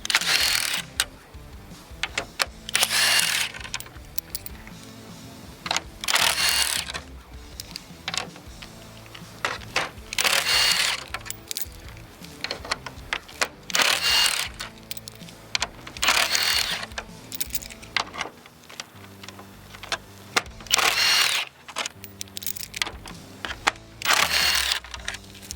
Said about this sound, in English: We're going to remove the 8 10mm bolts across the front of the grill here